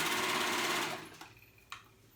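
A sewing machine stitches a ruffle to a sleeve piece of fabric, a fast, close whirring hum that stops after about a second, followed by a couple of faint clicks.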